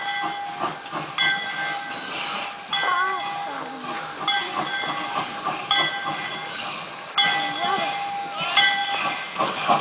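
A train engine pulls in along the track, hissing and clanking at moderate distance with rhythmic rail noise and tonal squeals, while people talk over it.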